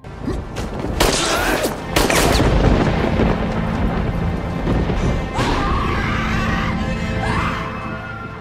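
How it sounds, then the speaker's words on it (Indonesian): Gunfire in an action film fight scene, with sharp loud crashing bursts near the start followed by a dense, sustained clattering din and shouting-like cries over it. "Kemudian Dina mengambil senjata yang tergeletak dan sempat menembak Topan sebelum Topan melarikan diri."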